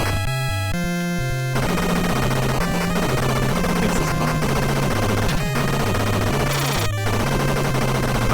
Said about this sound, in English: maybe actually the machine gun would be good